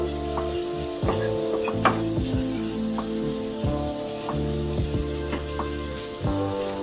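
Onions hitting a hot pan for curried eggplant, a moderate sizzle with scattered clinks and scrapes of stirring, close by with no speech over it.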